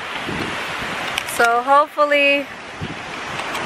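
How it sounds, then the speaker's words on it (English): Strong wind buffeting outdoors, a steady broadband rush roaring across the whole stretch, with a short spoken word cutting through in the middle. "this is too windy, it's crazy"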